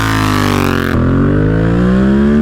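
A CP2 twin-cylinder motorcycle engine with an Akrapovic exhaust revs loudly and close up, its deep throaty exhaust note dropping and then climbing again in pitch.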